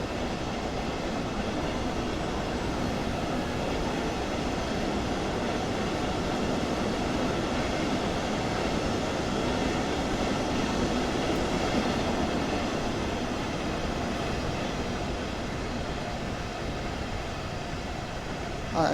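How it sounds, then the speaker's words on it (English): A train pulls out of a station in Train Sim World 2 on the Dresden route, giving a steady, fairly loud rumble and rolling rail noise that holds evenly throughout with no distinct clanks. "Oh, that's a train leaving."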